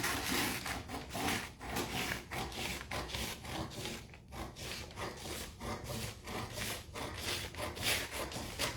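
Scissors cut through a paper sewing pattern for a blouse in quick, rhythmic snips and rasps, close and continuous throughout without any talking.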